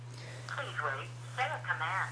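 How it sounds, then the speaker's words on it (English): A Samsung Behold phone's voice command feature answers with a synthetic, robotic spoken prompt. The short, clear utterance plays over a steady electrical hum. "As you can hear by the robotic voice, launches voice command."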